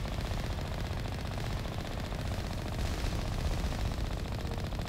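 Turrets in the Mass Effect 1 video game fire without pause, a dense, loud stream of rapid automatic gunfire rattling on for several seconds.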